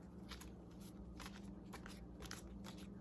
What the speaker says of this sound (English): we are going to go ahead and do another little shuffle here